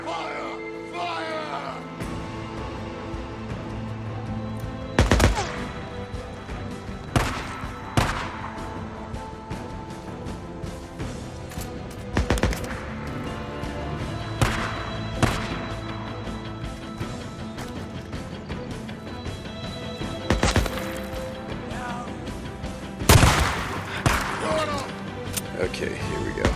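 Loud gunshots from the video game Days Gone ring out at irregular intervals, about six sharp cracks spread over the stretch, set over a steady game soundscape with music and ambience.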